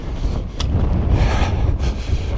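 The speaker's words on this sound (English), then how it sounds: "It's pretty windy today." Steady wind buffeting the microphone outdoors in the Red Rock hills near Las Vegas, a continuous broadband rush with gusts swelling louder midway and again near the end.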